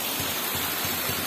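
Water from a small shower runs steadily down a water-park slide, a constant rushing hiss with soft periodic low splashes.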